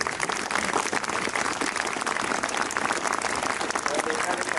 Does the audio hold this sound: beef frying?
no